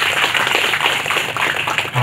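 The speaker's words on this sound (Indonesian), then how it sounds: "Tepuk tangannya mana rakyat saya ini?" Villagers in Kandangan village, Banyuwangi, applaud together in a brisk, dense burst of clapping that carries on steadily and fairly loud throughout.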